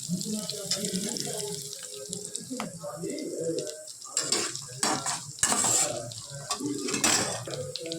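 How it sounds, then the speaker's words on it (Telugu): Onions and green chillies fry on a low flame for semiya upma as a spoon repeatedly scrapes and stirs the pan, with a soft sizzle beneath. A voice talks throughout. "ఇలా సిమ్లో వేగిస్తూ ఉంటే ఆనియన్స్ పచ్చిమిర్చి అన్నీ బాగా"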